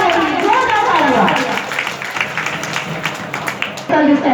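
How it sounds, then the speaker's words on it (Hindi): Applause honouring a guest at a ceremony, a brief burst of clapping from the audience, with a voice speaking into a microphone before and after it. "एक बार जोरदार तालियां, जोरदार तालियां"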